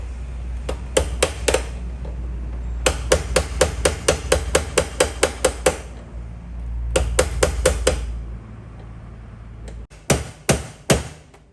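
A hammer strikes repeatedly during a battery replacement on a Raider150 motorcycle: sharp metallic blows come close and loud in several quick bursts of eight to ten hits, with short pauses between them and no talk.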